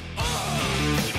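A rock song plays loud and dense for a brief moment, with driving distorted guitars and a thick low end.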